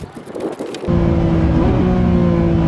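Lamborghini Revuelto launching hard on a quarter-mile drag run: wind rush gives way at under a second to a loud, steady engine roar with rising harmonic tones that hold to the end, close and with no voices.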